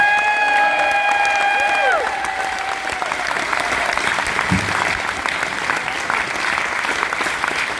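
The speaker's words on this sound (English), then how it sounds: "so give all the musicians a round of applause." Loud, full applause and cheering from an audience for musicians at a lifetime achievement award in Ballyshannon, a thick crowd roar of clapping with a sustained whistle early on, continuing steadily throughout.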